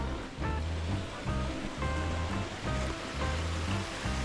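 A property creek runs high after heavy overnight rain in the mountains, a steady close rush of water with a continuous churning roar and no voices.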